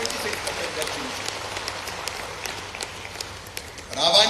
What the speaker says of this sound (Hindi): इस पर तो जोर से ताली बजावा